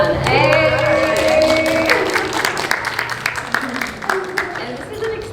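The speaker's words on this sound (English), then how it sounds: "Could you please give a round of applause for Malaan?" An audience at a live podcast event at the Melbourne Fashion Festival bursts into applause for a panelist, starting loud with a shout and cheers over it, then thinning into scattered claps as it fades.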